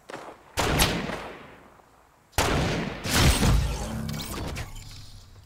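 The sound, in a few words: gunfire from a gun in the video game Fortnite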